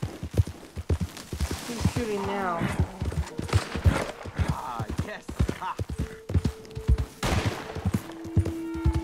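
Gunfire in the Western video game Red Dead Redemption 2, a string of sharp shots mixed with horse hooves and game music, with voices talking over much of it.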